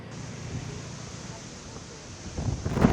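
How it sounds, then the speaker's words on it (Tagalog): Strong typhoon wind from Typhoon Upong sweeping through Northern Samar, strong enough to nearly topple trees: a steady, broad roaring rush that swells into louder gusts near the end. "Sa lakas ng hangin, tila matutumba na ang mga puno."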